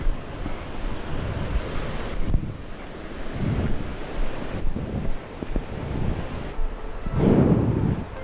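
A fast mountain river in Poland rushes close by, a continuous broad roar of churning water with gusty wind buffeting the microphone in irregular surges, no voices.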